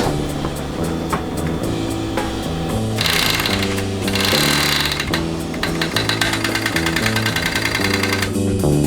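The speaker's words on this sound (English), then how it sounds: "I'm going to overlock these inside bits here just so they're a little bit clean" An overlocker serger stitches the inside seams of pocket pieces with a continuous, loud, fast mechanical whir and rattle, holding near and steady with brief changes in pitch as the fabric feeds through.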